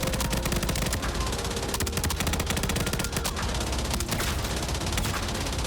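A P90 submachine gun fires in Arena Breakout Infinite, loud rapid automatic bursts nearly continuous for the whole stretch, with only brief gaps between strings of shots.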